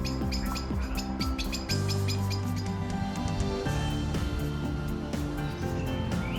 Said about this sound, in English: I couldn't help noticing these alarm calls from a pair of blackbirds